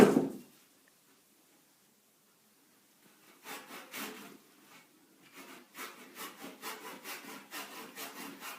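A hand saw rasps through wood in steady back-and-forth strokes, starting slowly and then settling into a quicker, regular rhythm, close by with no talking.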